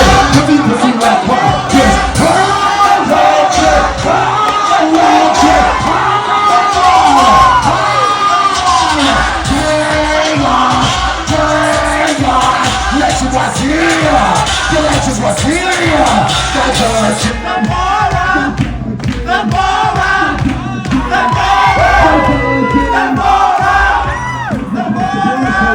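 A large crowd at a lively event cheers, yells and whoops continuously, loud and close, with shouts rising over a dense roar that holds nearly constant throughout.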